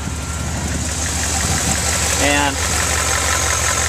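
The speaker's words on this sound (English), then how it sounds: "the motor just sounds as normal as any motor. And then, so just regular idling truck" A truck engine idles on natural gas after a CNG conversion kit install, a steady low rumble close by with someone talking over it.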